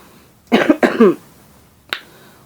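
Two quick, harsh coughs close to the mic, then a short pause and a faint throat sound, in a quiet room.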